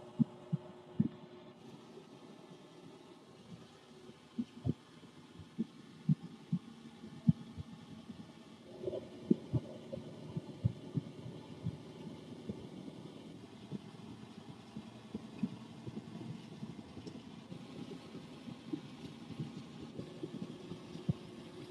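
A GE GTW220ACW0WW top-load washing machine spins at high speed and shakes, a low steady hum broken by irregular knocks and thumps, fairly quiet and with no voices.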